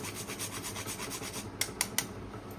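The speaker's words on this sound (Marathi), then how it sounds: "त्यानंतर थोडंसं जायफळ किसून घालते" Nutmeg is grated for a sweet dish, giving soft rapid rasping strokes at a close, quiet level, ending with three sharp little taps.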